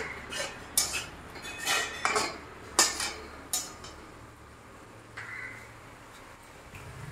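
Spices and chili powder being stirred in a pan while cooking a mixed vegetable and prawn fish dish, irregular metallic scrapes and clinks of a utensil against the pan, fairly quiet.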